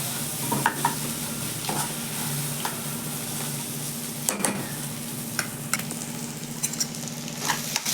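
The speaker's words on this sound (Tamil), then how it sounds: "முட்டை நல்லா எண்ணெயில் வதங்கிடுச்சு. இதோட கலந்து நல்லா கிண்டி பதமாக சேமியா எடுத்து போட்டுருவோம்." Vermicelli is stirred into egg and onion frying in oil, giving a close, steady sizzle punctuated by repeated scraping strokes and sharp clicks of a spoon against the pan, with no voices.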